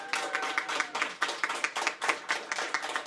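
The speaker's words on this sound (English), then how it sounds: "Can we just have a quick round of applause for our brilliant panel?" An audience applauding a panel at a wheelchair tennis event, a short burst of close, rhythmic clapping from a small crowd, steady for about three seconds.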